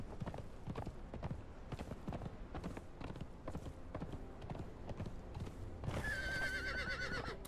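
A horse ridden in the Conan Exiles video game clops along in a steady rhythmic gait, its hoofbeats loud and close, with a whinny and a bright game chime toward the end.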